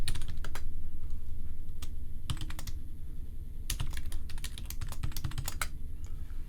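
Rapid keystrokes on a computer keyboard as a password is typed, coming in uneven bursts of close, crisp clicks over a steady low background hum.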